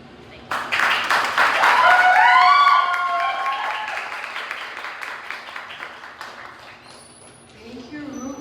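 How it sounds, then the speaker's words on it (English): An audience at a poetry night breaks into loud, sustained applause and cheering that swells quickly, then slowly fades while a voice speaks over the tail end. "Let's clap again for Ruby."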